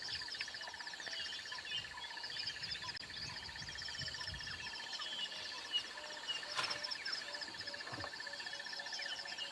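Ground birds call territorially at sunrise on a safari, with layered chirps and calls from several birds and soft insect sounds, moderately distant and fairly faint.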